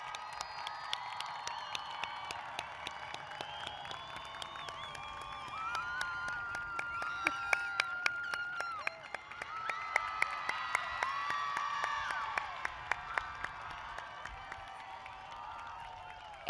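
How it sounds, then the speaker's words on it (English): A graduation ceremony crowd cheers, whoops and shouts for the graduating class, sustained and fairly distant, with scattered sharp claps and one loud pop at the very end. "Round of applause for this graduating class."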